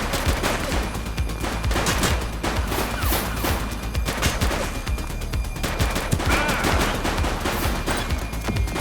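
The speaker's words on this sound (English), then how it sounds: "Shots fired!" Sustained gunfire in a police shootout in The Precinct video game, dense bursts of automatic and rapid shots crackling continuously and loudly across the whole stretch with no pauses.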